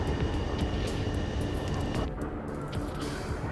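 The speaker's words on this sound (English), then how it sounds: "Multiple unidentified aircraft approaching." Aircraft engines roar steadily throughout from the Ace Combat 7 combat flight game, a loud continuous jet drone with no pauses.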